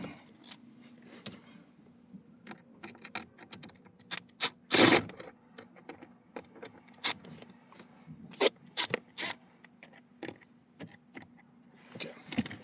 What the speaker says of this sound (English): you actually have to take those two screws out